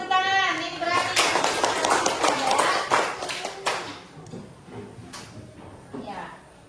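Students in a classroom clap together in a brisk burst that lasts a few seconds and then thins to scattered claps. A voice and other talk come through underneath.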